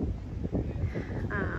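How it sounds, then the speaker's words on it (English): Strong wind buffets the microphone in continuous low rumbling gusts, loud and close, with no talking. "it's just so windy."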